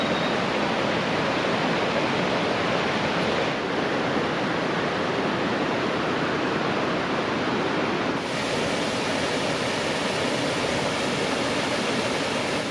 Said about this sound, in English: The river goes under and then comes out at the top of this stunning, magnificent waterfall.